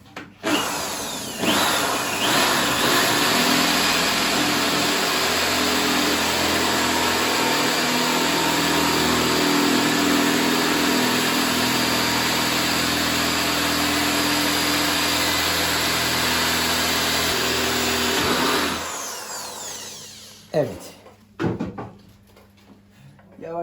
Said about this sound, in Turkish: 12 milim bir delik açacağız buraya.